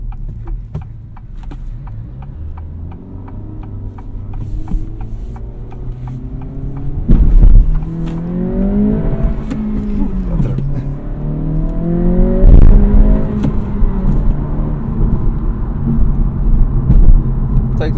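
An Acura Integra accelerates through its gears from inside the cabin, engine pitch climbing steadily, dropping at a shift, then rising again, with a loud continuous rumble and road noise throughout.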